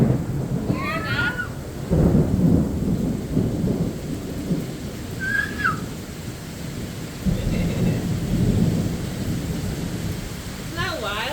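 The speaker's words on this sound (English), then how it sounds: "powerful storm. Isn't that wild? You see that?" Deep rolling thunder in a severe thunderstorm, several heavy rumbles building and fading over steady rain, with birds chirping briefly in between and people talking faintly.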